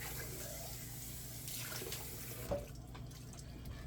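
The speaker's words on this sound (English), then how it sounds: "Rinse this out." Water from a kitchen tap runs steadily as an emptied food can is rinsed out, a continuous close splashing hiss with a brief clunk of the can partway through.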